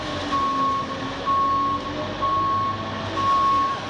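A concrete truck reverses during a pole barn floor pour, its backup alarm sounding four steady, evenly spaced beeps over a constant engine rumble.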